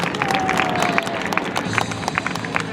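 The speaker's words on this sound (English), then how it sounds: "join me with a nice round of applause for Dan McHugh" An airshow crowd applauds for an F4U Corsair display, a brief burst of scattered clapping with crowd murmur, fairly loud and close.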